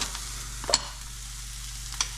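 Blackened walleye fillets frying in butter in a pan, a low steady sizzle with a couple of brief utensil clinks, heard close and alone without voices.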